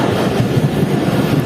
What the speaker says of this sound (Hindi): ट्रेन स्किप कर रही है डिगरोड जंक्शन रेलवे स्टेशन को